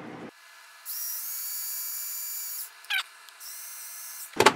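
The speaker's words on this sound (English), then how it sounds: "there is no spot for red and blue at the top, so I'm going to drill my own." A power drill bores into plastic on a fiber-optic controls build: a brief low thump, then a sustained high whine for about two seconds, a short burst, a second stretch of whining, and a clatter at the end, fairly close.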